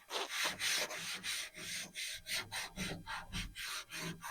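Hand sanding scuffs the surface of a fiberglass hood scoop for a Mustang II, a close, dry rhythmic rasp of about a dozen back-and-forth strokes with no talking.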